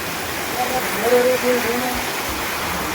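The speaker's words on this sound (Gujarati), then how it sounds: "અમારા ગામમાં વરસાદ પડે છે જોવો, અને બરફ પડે સારો" Steady, dense hiss of rain and hail pouring down in a village, with a faint voice murmuring briefly underneath.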